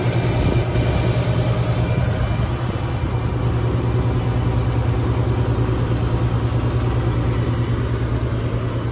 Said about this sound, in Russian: Моторчик работает ровненько, отлично.